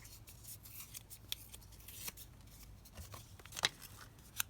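Paper scraps are torn by hand for craft embellishments, producing soft, close, irregular rips and rustles with a few sharper tearing bursts, quiet throughout.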